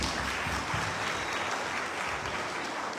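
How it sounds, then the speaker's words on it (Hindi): Audience applause at an AWPL tenth-anniversary gathering in Abu Dhabi, honouring achievers: steady, dense clapping from a large crowd, moderately loud and continuous for the full stretch, with no talk over it. "जोरदार तालियां उनके लिए बजाइए।"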